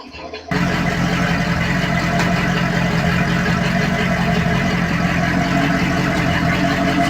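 An inboard boat motor, running on a bucket of antifreeze during winterizing, fires up after a brief quiet moment and then runs loud and steady nearby with no other sounds over it.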